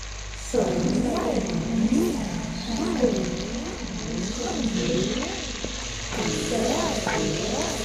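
Tomatoes and onion fry in a pan for a spinach and meat curry, a steady hissing sizzle running throughout beneath a melodic, voice-like sound that rises and falls in repeated phrases.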